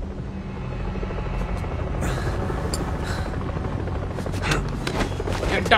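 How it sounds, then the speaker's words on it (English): A helicopter's rotor thump pulses loud and close throughout, with sharp cracks like gunfire popping over it and faint voices underneath. "Helicopter."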